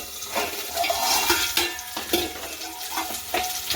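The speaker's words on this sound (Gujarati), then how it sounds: "તે બીજી બાજુ પણ આ રીતે આપણે તેને ફ્રાય થવા દેવાના છે" Tomatoes sauté and fry in a pan for a sweet-and-sour tomato chutney, giving a steady close sizzle with soft stirring scrapes and occasional spatula clicks, no voices.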